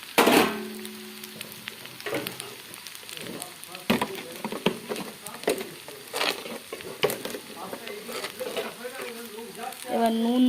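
Egg chowmein frying in a home pan, with crackling sizzle and occasional stirring scrapes running steadily throughout at moderate loudness, while a person speaks intermittently over it.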